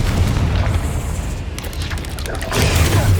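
Confringo fire spell blasts cast in Hogwarts Legacy: deep booming explosions over a steady low rumble, with a few sharp bursts in the middle and a heavier blast near the end.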